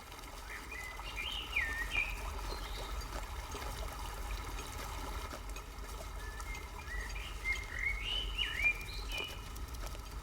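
Birds chirp in a forest that a company of riders on horseback is passing through. A few short, clear calls come near the start and again near the end, over a steady low rumble and soft background hiss.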